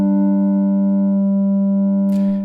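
A Pittsburgh Modular Taiga synthesizer holds a steady, loud, harmonically rich tone with a programmed fifth, then a short noisy burst near the end.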